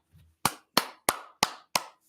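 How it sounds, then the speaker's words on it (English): Five slow, evenly spaced hand claps ring out close and crisp, each sharp and isolated with silence between, after a faint murmur at the start. "I give you applause there, Mr. Burns."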